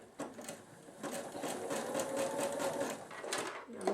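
A sewing machine runs steadily while stitching a corded fabric bowl, its fast rhythmic needle chatter holding at an even pace for several seconds before a brief pause and restart.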